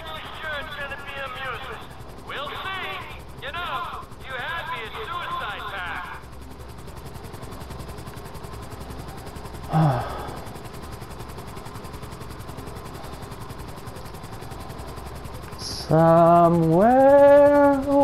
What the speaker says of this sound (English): piloting this chopper